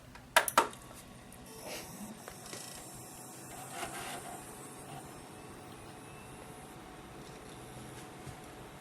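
A desktop computer powering on and running normally, a couple of sharp clicks at switch-on followed by a steady whirring fan hum and faint mechanical noise that settles into an even drone.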